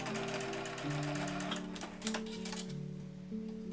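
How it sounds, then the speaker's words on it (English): A sewing machine stitches a single-layer reversible hanbok vest, its motor humming in short runs with rapid needle clatter and brief pauses between bursts, close and clear with no talking. "I missed some stitches, so I had to go back and sew that missing part"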